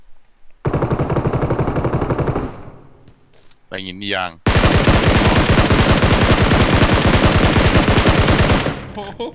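Loud, rapid automatic gunfire in PUBG Mobile played on an iPad: a long dense burst, a short pause with a brief voice, then another sustained volley of shots.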